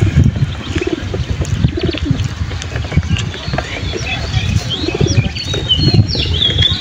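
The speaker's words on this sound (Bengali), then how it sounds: "এই যে আমার 21 জেনারেশনের কবুতর" Close, soft cooing of domestic pigeons in a loft, recurring low coos layered with brief wing flaps and light chirps, with someone speaking over them.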